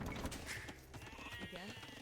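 Sheep in a real-time strategy game bleat in a short, wavering burst, faint and mixed under game sounds for about two seconds.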